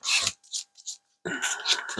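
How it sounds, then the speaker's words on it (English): Board game cards for a 1991 Iraq air-combat game are riffled in short bursts, a quick rasp, a gap of softer flicks, then a longer dense riffle, close and clear with no talking. "So let's go ahead and shuffle them here."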